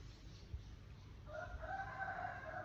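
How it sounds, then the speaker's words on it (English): A rooster crows faintly in the distance over a quiet background hum, a single drawn-out call rising partway through. "Mr. Rooster has been going since 4:15 this morning."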